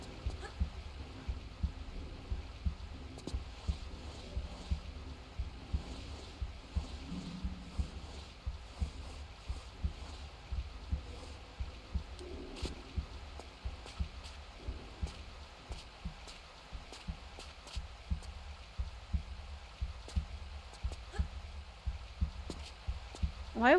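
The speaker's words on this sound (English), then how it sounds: "Why would there be heartbeat sounds in Antarctica?" Heartbeat sounds in Tomb Raider III Remastered, a steady rhythmic low thumping pulse repeating throughout against a quiet ambient game background.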